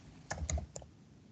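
A handful of faint computer keyboard keystrokes click in a short, uneven burst, close but quiet, in an otherwise still room.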